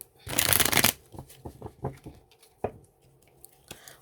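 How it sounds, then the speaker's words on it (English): Tarot cards being shuffled close up in a loud burst of riffling, followed by a series of softer, irregular card taps and slides. "So I'm going to pull some cards on this choice."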